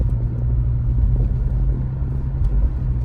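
A 1989 Saab 900 Turbo cruising at around 50 mph, its engine and road noise forming a steady low rumble with a constant drone, heard from inside the car and without speech.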